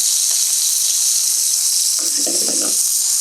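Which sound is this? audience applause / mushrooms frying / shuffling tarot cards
mushrooms frying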